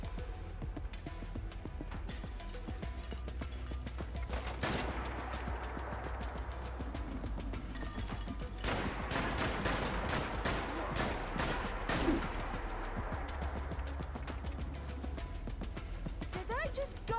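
Gunfire in Fallout London: repeated sharp shots in scattered bursts and rapid strings across the whole stretch, loud and close, over game ambience with occasional talk.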